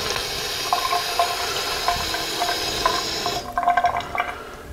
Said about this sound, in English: And you can just rinse that out.